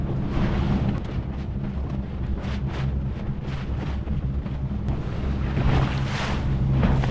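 Steady broadband rush of wind and water as a jet ski idles slowly across open ocean in Bimini, Bahamas, with no voices over the churning spray and wind noise.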